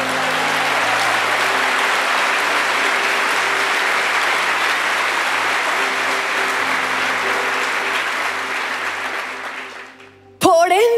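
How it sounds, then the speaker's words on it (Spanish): Audience at a church teaching session gives sustained, dense applause for about ten seconds, fading slightly before a speaking voice cuts back in at the end. "dale ese aplauso"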